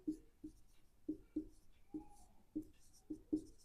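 A pen writes on paper in short, separate scratchy strokes, about eight soft, close scrapes spaced unevenly with quiet gaps between them and no talking.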